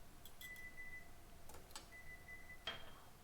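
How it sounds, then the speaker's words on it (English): A kitchen timer in a home kitchen during keto challah baking, ticking faintly with a few thin chirping tones, quiet and alone. "There's our timer."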